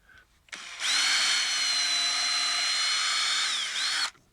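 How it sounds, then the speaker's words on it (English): A power drill bores a pilot hole, whirring at a steady high pitch for about three seconds, close and loud, then spins down and stops. "So I'm just going to take my drill,"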